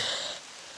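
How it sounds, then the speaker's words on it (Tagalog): Rain falls on a mountain trail as a steady, fairly loud hiss that eases slightly partway through, with no voices in this short moment. "Nabutan tayo ng ulan."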